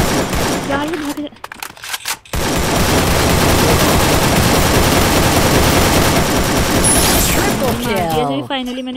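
Dense, continuous automatic gunfire fills a Free Fire mobile battle, a long sustained burst of rapid shots with a few sharp reports and brief gaps early on, loud and close, with game sound effects at the end.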